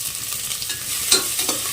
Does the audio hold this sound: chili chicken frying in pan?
yes